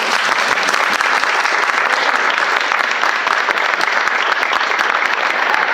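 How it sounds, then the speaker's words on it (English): A packed audience at a motivational talk breaks into dense, loud, sustained clapping on request, a continuous wash of many hands with no pauses. "Just simulate a clap for me."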